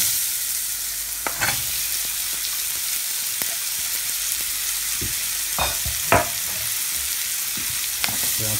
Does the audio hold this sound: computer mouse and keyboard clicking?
no